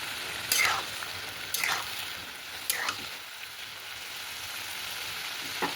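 Vegetables sautéing in a pan on a home stove, a steady soft sizzle broken by four sharp scraping stirs spaced a second or more apart.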